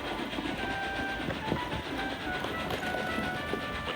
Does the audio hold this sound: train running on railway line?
yes